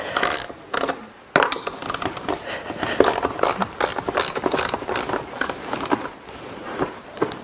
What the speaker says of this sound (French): Donc ça c'est une clé à cliquer